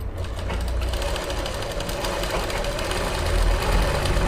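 A sewing machine runs steadily, double stitching fabric along both sides of a garment, its fast mechanical whir and needle chatter continuous and close throughout.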